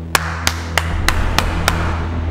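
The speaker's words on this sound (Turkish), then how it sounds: "Ezel'e alkış" A single person gives a slow clap in a tense scene from the Turkish drama Ezel: six loud, evenly spaced hand claps over a low steady hum, with no talking.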